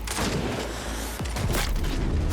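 Repeated booming gunfire in the video game Cyberpunk 2077, loud and continuous with several sharp bursts and impacts layered over a dense action soundscape.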